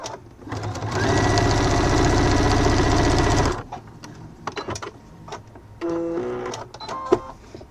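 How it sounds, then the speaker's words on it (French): A sewing machine runs a seam on a fabric wallet, making a fast, steady mechanical whir for a few seconds, then stops; scattered handling clicks and a shorter second burst of stitching follow. "Je fais la couture."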